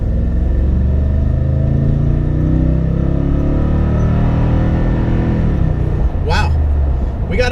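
A truck engine accelerating hard on an open road toward almost 6,000 RPM, a loud continuous rumbling drone that holds steady, with a couple of brief sharp noises near the end.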